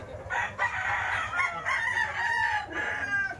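A fighting cock up for sale crows loudly and repeatedly at close range, with clucking and other fowl sounds mixed in.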